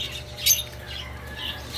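Pet birds such as African lovebirds or cockatiels let out a sharp squawk, with faint chirps and scratchy calls trailing after it over a low steady hum.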